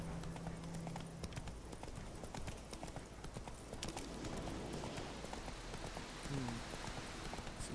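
Hooves of the horse Roach clip-clopping steadily along in The Witcher III video game, a close, regular trot that runs throughout, with brief faint game sounds over it and no talking.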